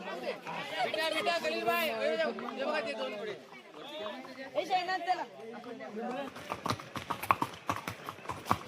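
Horse hooves clip-clop during a horseback ride at Matheran hill station. People chat and laugh at first, then close, brisk hoofbeats ring out in an uneven rhythm toward the end.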